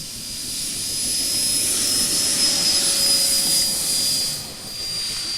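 A Freewing F-16 90mm electric ducted-fan RC jet spools up for takeoff on its maiden flight, a loud, steady high-pitched whine with a broad rushing roar that swells and then dips slightly.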